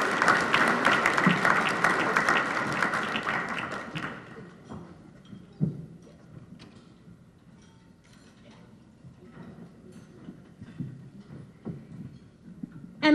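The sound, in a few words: audience applause for Town Bank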